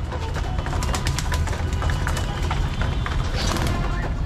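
Pigeons, including hens, coo and flutter close by at feeding time in a loft, soft repeated calls mixed with wing flaps and shuffling over a busy background, with a voice talking through it.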